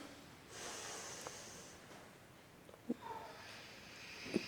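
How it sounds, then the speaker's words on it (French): Deep yogic breathing during a yoga nidra session, slow soft inhales and exhales with a couple of short nasal snorts, quiet and close in a still room. "prenez 3 respirations yogiques"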